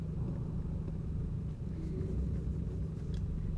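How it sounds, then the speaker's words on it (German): An engine runs steadily as a low rumble in a Silent Hill video game, faint and distant, alone without speech. "Aber ich höre auf jeden Fall einen Motor laufen."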